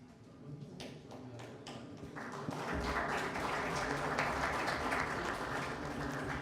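An audience at a chamber of commerce general assembly in Provence breaks into applause: a few scattered claps first, then a fuller, sustained round of clapping from the hall.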